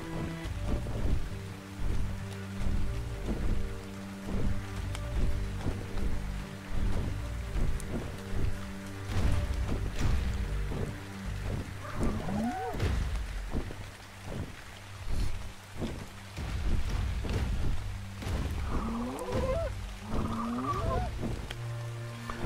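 Steady rain falls in ARK: Survival Evolved, a continuous hiss with low rumbling beneath it. Voices are heard faintly in places over the downpour.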